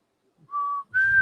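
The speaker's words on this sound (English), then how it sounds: "That's actually pretty good whistle." Two clear whistled notes from a person, a shorter held tone followed by a slightly higher sustained one, close and alone with no talk.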